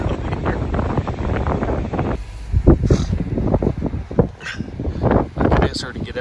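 Strong, gusty wind buffets the microphone at a mountain top, with heavy rumbling bursts that rise and fall, while people talk through it.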